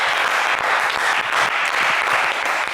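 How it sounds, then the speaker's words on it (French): A game show studio audience applauds a contestant with loud, dense, continuous clapping and no voices. "on vous applaudit."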